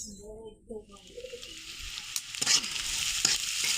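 Chopped onions sizzle in hot oil in a village home kitchen, the frying growing louder and steadier after a quieter start with a few soft stirring scrapes and a faint voice early on.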